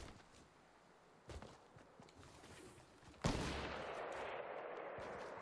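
Scattered gunshots in the video game Fortnite: a faint distant shot, then a single louder sharp crack followed by a lingering rumbling ambience, all fairly quiet.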